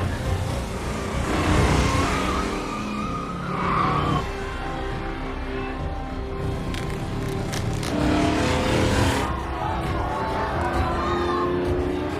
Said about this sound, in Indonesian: Mobil yang digunakan Dom memang melaju kencang, namun mesinnya mulai terbakar.